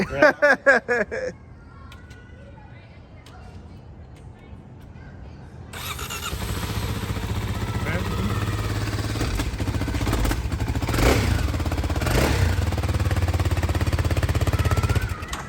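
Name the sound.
small 300cc motorcycle engine starting and running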